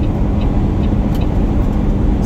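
A Peterbilt truck drives along the road, its engine a loud steady low rumble heard from inside the cab, with no breaks.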